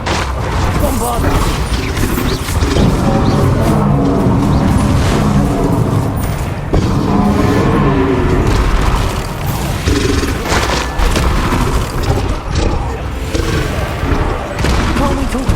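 Spell combat in the video game Hogwarts Legacy, a duel with Rookwood: a dense, continuous wall of loud booming explosions, crashes and magical impacts from repeated Bombarda spells, with a voice shouting incantations mixed in.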